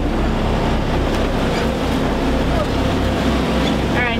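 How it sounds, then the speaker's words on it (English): A sailboat motors along under engine power, giving a loud, steady drone mixed with water rushing past the hull. The noise runs continuously throughout. "I'm gonna try and see if we can't go a little bit faster with the engine on"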